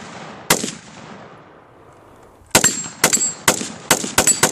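Rapid gunshots crack outdoors at a target range, first a single loud report, then a quick irregular string of sharp shots with echoing tails, close and loud.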